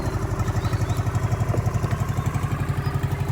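Near the Pakatan river, a nearby motorcycle engine idles with a loud, regular chugging throb, its fast even pulses continuing unbroken with no talk.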